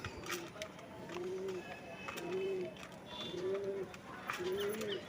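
Jamni panja pigeons coo in a repeated rhythm, about four soft rolling calls a second apart. A person talks quietly in the background.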